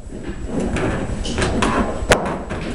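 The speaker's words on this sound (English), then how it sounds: "you screw the post to the base through the cube, and it'll squeak" A post is screwed through a cube into an acrylic bird cage base, giving close, continuous grinding and squeaking friction with a sharp creak near the end.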